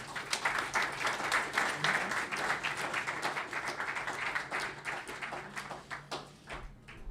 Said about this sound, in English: Keep the applause going for Christine Forster